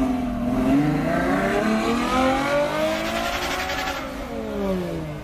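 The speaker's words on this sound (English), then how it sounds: "The V12 engine of the Ferrari singing as it goes up the hill right here" A Ferrari V12 engine sings as the car climbs a hill at a hill climb event, its pitch rising and falling through the gears in a loud, continuous wail.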